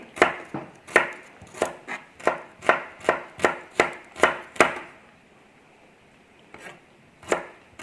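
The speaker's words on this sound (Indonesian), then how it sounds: "Kita rajang-rajang semua ya, sekitar 10 biji." A knife chops chayote and green beans on a cutting board in about eleven quick, evenly spaced strokes, then a pause and two more separate chops, crisp and close with no talking.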